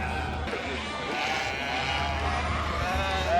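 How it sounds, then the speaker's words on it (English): Sheep bleat throughout a busy pen at the Great Yorkshire Show agricultural event, several animals calling over one another against a murmur of crowd noise and voices. "they've just let the sheep loose now"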